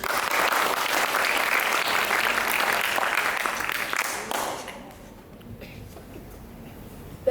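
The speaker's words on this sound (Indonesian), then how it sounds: "Berikan tepuk tangan sekali lagi untuk penampilan yang spektakuler ini." Audience at a school stage show in Mataram claps after a performance, loud sustained applause filling the hall for several seconds before fading into quieter murmurs.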